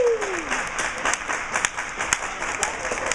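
A crowd applauds at a bowling tournament final, with sustained clapping and cheering while a commentator talks over it.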